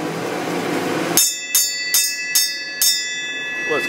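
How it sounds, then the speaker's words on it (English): A bell struck five times in steady succession at a rural logging and repair site, each ring sharp and bright with a lingering metallic tone, loud and close over faint background noise. "Alright, ring the bell."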